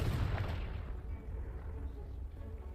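The Confringo spell explodes in Hogwarts Legacy with a loud, broad blast that quickly settles into a deep rumble, which fades slowly over a couple of seconds.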